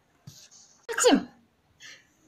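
A single human sneeze bursts out sharply in the middle, with a brief breathy intake before it and a short faint sound after, otherwise quiet.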